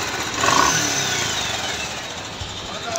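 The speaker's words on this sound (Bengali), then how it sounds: "তো এই তো বাইকটার সাউন্ড শুনলেন" A 2016 Bajaj Pulsar UG4 motorcycle engine with a sound problem runs close by, giving a steady, rough mechanical drone for about three seconds with no talking.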